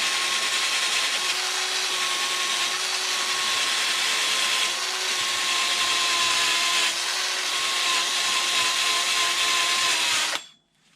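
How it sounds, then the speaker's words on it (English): A cordless power drill runs in one long steady whine with a droning tone for about ten seconds, loud and close, then cuts off abruptly. "My battery's running out, so I might have to use a different drill."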